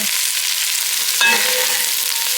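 Mushrooms frying in a pan, a steady, close sizzle with one brief stir or shift partway through and no voice.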